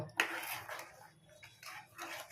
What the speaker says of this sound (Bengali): এলাচ গুঁড়ো দু চামচ চিনি দিয়ে আমি ভালোভাবে মিক্স করে নেব